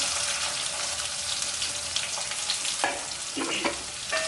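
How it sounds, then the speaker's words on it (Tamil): Onions dropped into hot oil with curry leaves for a Chettinad mushroom masala, a loud hissing sizzle throughout with a few scraping stirs toward the end. "வெங்காயம் போட்டுக்கலாம்"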